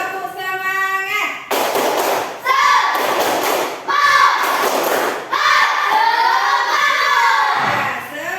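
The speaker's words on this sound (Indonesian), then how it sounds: "Ya, tepuk semangat dulu untuk kalian semua." Schoolchildren chant together in a classroom while doing a rhythmic spirit clap, with sharp claps falling in groups between the loud chanted phrases.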